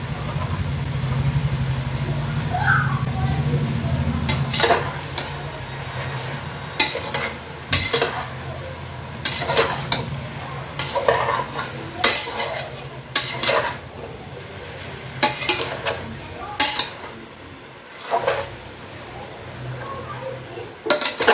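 Chicken stew is sautéed in a pan, with a low sizzle under repeated scraping and clattering strokes of a spoon against the metal, coming in irregular bursts.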